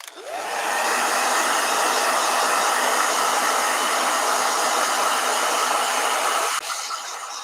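A blow dryer dries a watercolor painting, a steady loud whooshing roar that spins up at the start, holds evenly for several seconds, then clicks down to a lower setting near the end.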